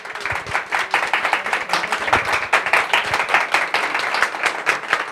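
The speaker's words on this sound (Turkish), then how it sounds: "Alkışlarla uğurlayalım." Audience applause at an award ceremony, dense sustained clapping from a crowd filling the whole stretch, fairly loud and steady with no pauses.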